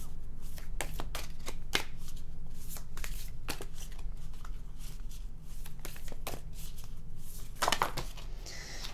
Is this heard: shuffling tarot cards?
yes